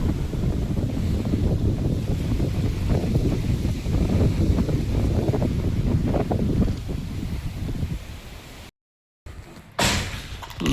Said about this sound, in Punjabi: ਹਵਾ ਬਹੁਤ ਤੇਜ਼ ਆ